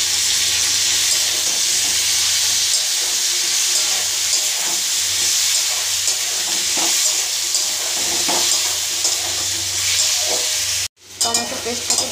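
Onion, ginger and whole garam masala paste with green chilli fries in a pan with no oil for an egg curry. A steady, close sizzle and hiss runs throughout with occasional stirring scrapes, then cuts out briefly near the end before resuming.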